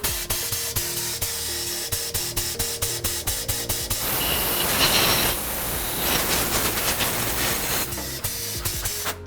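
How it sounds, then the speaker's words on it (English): A Terrafend Monsoon Pro spray gun fed by a compressed air line gives rapid pulsing bursts of air, then a few seconds of steady hissing blast, then pulsing again, close and loud with no talking. "place the air line inside the gun, pull the trigger and then compress the other trigger to make sure the air is stopping and starting"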